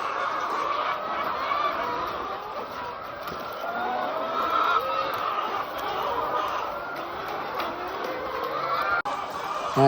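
A dense mass of chickens at a poultry farm, continuous overlapping clucking and squawking from many birds close by, with occasional other calls mixed in.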